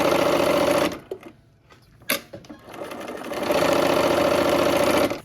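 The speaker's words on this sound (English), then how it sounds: "We'll sew on the line." Sewing machine stitching fabric pieces for a quilt medallion, loud close-up motor hum running in fast bursts, pausing briefly in the middle before resuming steadily.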